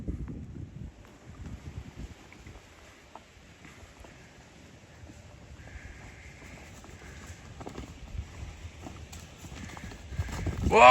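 Cows walking along, their hooves clopping in an uneven patter under gusty wind buffeting the microphone, the footfalls growing louder and closer toward the end.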